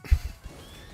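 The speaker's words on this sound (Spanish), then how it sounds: "Y una caballo." A short video-game horse neigh from Miitopia on Nintendo Switch as a steed is summoned, a brief whinny burst with a quick shaky trailing tone, lasting under a second.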